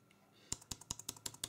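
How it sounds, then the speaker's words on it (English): Crisp Bluetooth keyboard key clicks in a steady rhythm, about eight keystrokes close up, with a faint background hum. "I can type away using the keyboard"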